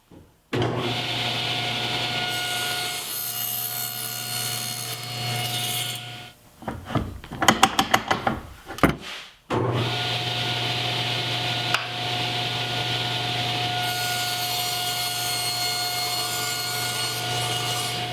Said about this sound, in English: I cut these from 3/4 inch birch plywood